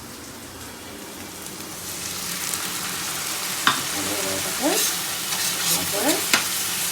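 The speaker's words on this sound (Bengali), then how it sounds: "তো দেখো পেঁয়াজটা কিন্তু ভাজা ভাজা হচ্ছে" Chopped onion fries in oil in a pan for a Bengali prawn curry, making a steady, close sizzle. A utensil scrapes and stirs through it several times, with a brief spoken word.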